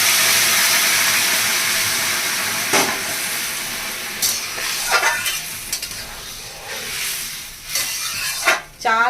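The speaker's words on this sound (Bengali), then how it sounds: "তারপর গরম জল দিয়ে দিচ্ছি পরিমাণ মতো গরম জল দিয়ে দিলাম" Hot water poured into a pan of fried rice and lentils for khichuri sets off a loud, hissing sizzle with bursts of steam. Several clanks of a spoon come near the end, and a faint voice sits in the background.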